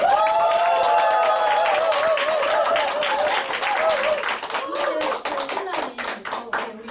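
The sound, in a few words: audience applause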